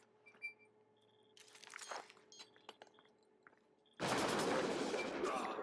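Gunfire in the video game Splinter Cell: Blacklist, a few faint clicks and scattered shots at first, then a sudden loud, dense burst of rapid fire filling the last seconds.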